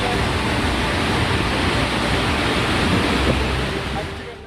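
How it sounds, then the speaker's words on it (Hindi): Floodwater from the Sindh river roars out of the ten opened gates of the Atal Sagar Madikheda dam in Madhya Pradesh. The loud, continuous rushing wash with a deep rumble dips slightly at the end, with no voices. "बांध से पानी हाहाकारी सैलाब की शक्ल में आगे बढ़ रहा है"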